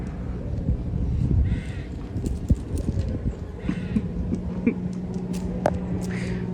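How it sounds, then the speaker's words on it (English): Horses at a farm animal sanctuary trotting and bucking, with clear clip-clop hoofbeats in uneven bursts, some heavy thuds, and crows cawing in the background. "Look at this synchronised trotting."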